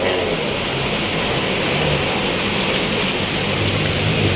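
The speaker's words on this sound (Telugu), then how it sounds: "ఇది మాత్రం హెవీ రెయిన్" Heavy rain pouring down during flooding in Manikonda, a dense, unbroken hiss that stays loud and even from start to finish, with no voices.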